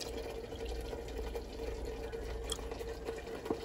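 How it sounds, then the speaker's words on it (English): Milk is poured into an empty cream of mushroom soup can for a macaroni and cheese recipe, a steady faint liquid trickle running for several seconds against a low kitchen hum. "I'm going to pour some milk in there."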